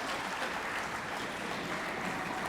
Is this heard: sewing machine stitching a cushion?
no